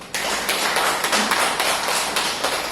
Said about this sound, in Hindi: जोरदार तालियां अपने लिए बजाइए